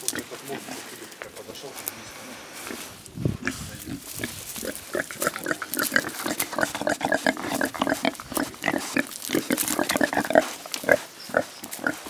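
Pigs grunt and snuffle repeatedly while rooting up and turning garden soil for a vegetable plot, a busy run of close, irregular oinks and rustling over a continuous background, with people talking throughout.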